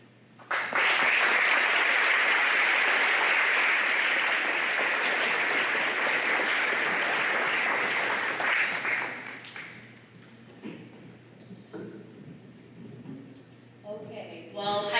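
Sustained audience applause at a high school Veterans Day program, loud and dense for about nine seconds before fading into scattered claps, murmurs and voices in the room.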